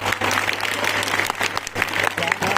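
A classroom audience of fifth-grade students claps together in a dense, continuous round of applause, close and fairly loud, with slight swells and dips throughout.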